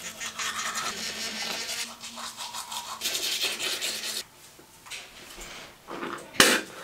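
A Quip toothbrush scrubs in uneven bursts of close, raspy bristle rubbing with brief pauses between strokes, ending in one sharper knock.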